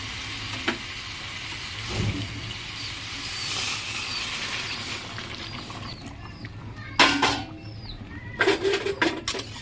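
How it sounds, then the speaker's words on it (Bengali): Hot water goes into a pan of browned duck meat for a thin duck and potato curry, giving a steady sizzling wash with a few sharp clatters and splashes near the end. "দেখুন কষানো হয়ে গেছে মাংস এখানে জল এখন গরম জলটা ঢেলে দেবো"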